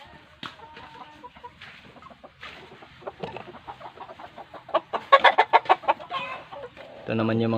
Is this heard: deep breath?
no